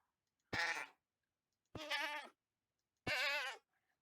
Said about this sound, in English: This is for a normal goat being hurt.